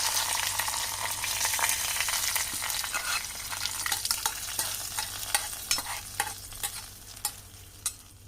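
A ground roasted spice mix stirred into sambar with the flame off, a spoon scraping through thick liquid in repeated strokes against a steady low hiss, the clinks growing sharper and more spaced toward the end.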